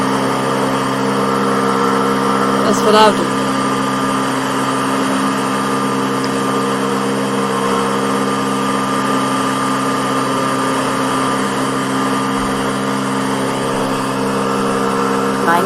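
The engine of a Storch light airplane in the FlightGear flight simulator game drones with a steady, buzzing, tonal hum that holds constant throughout, someone speaking briefly over it.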